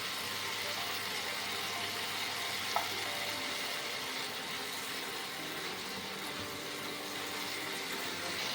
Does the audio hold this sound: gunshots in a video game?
no